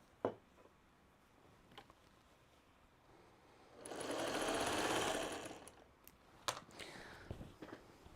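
A sewing machine stitches the final seam of a row on a Turnabout Granny Squares quilt, a steady mechanical whir running for about two seconds at moderate loudness between quieter handling clicks and taps.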